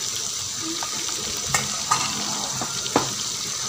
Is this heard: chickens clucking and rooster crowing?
no